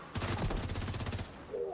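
Rapid burst of blind-fire gunshots in The Division 2, a tight string of about a dozen evenly spaced shots lasting roughly a second, loud and close, then cutting off into quieter game ambience.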